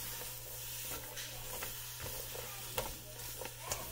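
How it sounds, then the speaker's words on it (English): Food dry-fries in a hot pan with a steady crackling hiss, punctuated by soft scraping stirs and occasional pops. "You can hear my pan is really hot."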